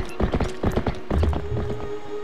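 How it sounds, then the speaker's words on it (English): Horse hooves clip-clopping at a gallop in the video game The Legend of Zelda: Twilight Princess, a steady rapid rhythm of close, fairly loud hoofbeats with a faint whinny-like tone. "There, I touched my horse, hey! That's my horse!"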